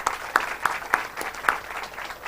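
An audience at a share market seminar claps in a short burst, a series of distinct loud claps at an uneven rhythm rather than a full crowd ovation.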